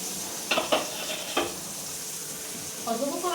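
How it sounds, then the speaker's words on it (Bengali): Pumpkin pieces seasoned with salt and turmeric fry in hot oil in a wok, giving a steady close sizzle with a few sharp clatters of stirring and a louder spitting surge near the end, with no talking. "কড়াইতে তেল দিয়ে দিয়েছি, তেল গরম হয়ে গেছে, কুমড়োগুলো ভেজে নেবো।"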